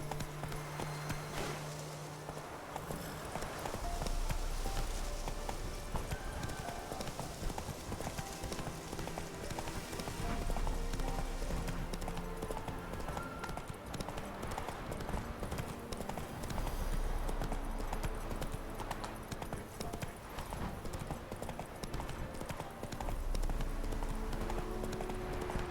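Roach the horse's hooves clip-clop steadily in The Witcher 3, a continuous rhythmic trot heard close and moderately loud over a bed of ambient game sound for the whole stretch.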